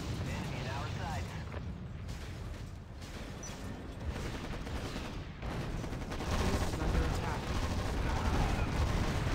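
Gunfire rattles in the real-time strategy video game Act of War as dense, continuous crackling bursts over a rumbling battle din, with a voice speaking over parts of it.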